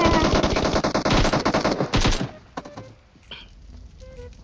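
Rapid automatic gunfire in PUBG Mobile, a dense close burst of shots for about two seconds, then a few scattered, quieter shots and thuds trailing off.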